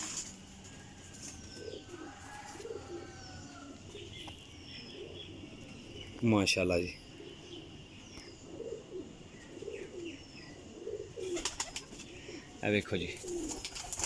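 A golden teddy pigeon hen coos in low repeated phrases while someone talks over it, with bursts of wing flapping and scattered chirps from other pigeons nearby.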